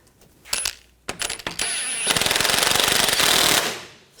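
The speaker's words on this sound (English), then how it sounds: "Now I'm using a pull jack." Pull jack lifting a 2000-2006 BMW X5 3.0L L6, giving sharp metallic clanks followed by a rapid, steady ratcheting rattle that runs for a couple of seconds, close and loud.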